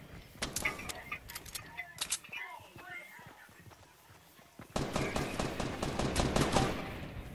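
Rapid gunfire from the video game Fortnite comes in quick clusters of loud shots, then a sustained burst near the end, with a player talking over it.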